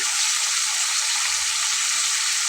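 Chopped onion going into a frying pan, a steady dense sizzle filling the whole moment, loud and close with no voices.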